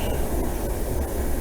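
Inside a passenger train running on rails between Sofia and Varna, a loud continuous rumble fills the cabin with faint rhythmic wheel clicks and no talking.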